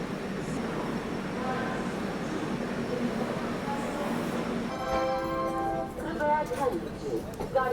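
Kashi Mahakal Express rolling onward after leaving Kanpur Central, a steady rumble of wheels on rail with brief tonal squeals and horn-like bands near the end, under a voice speaking.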